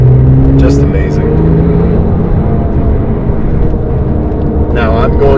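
A Porsche 997 GT2 RS drives along twisty roads, its engine a loud, steady drone close by with shifting tonal pitch throughout, and a brief voice cutting in near the end.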